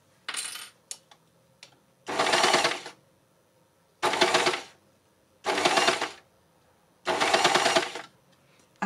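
Overlocker stitching fabric in four separate bursts of roughly a second each, a loud close rapid clatter with short quiet gaps between, plus a few small clicks before the first run.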